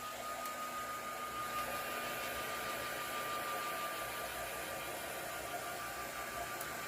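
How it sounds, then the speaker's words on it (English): A heat gun blows over fresh paint on a craft piece, a steady, fairly quiet whooshing roar with a constant whine, unbroken throughout with no talking. "I'm just going to hit mine with the heat gun real quick"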